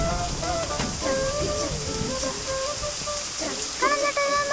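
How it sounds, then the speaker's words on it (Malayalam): Heavy rain falls steadily on surfaces, a dense continuous patter close by, with voices speaking briefly over it. "അതേ നല്ല മഴ തന്നെട്ടാ"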